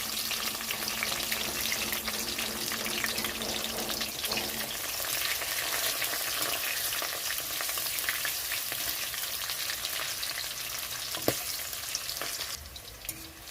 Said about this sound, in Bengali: এখানে রসুনটা একটু ভাজা হয়ে গেছে